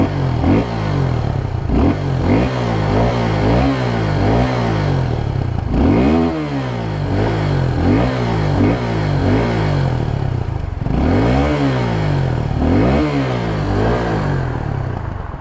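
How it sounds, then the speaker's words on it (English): Exhaust of a 2022 Suzuki Gixxer SF 250 motorcycle, loud and close, revved repeatedly in sharp bursts that climb and fall back to a steady idle, about half a dozen blips over a continuous rumble. "Now let's hear the exhaust note of the motorcycle, because this motorcycle sounds amazing."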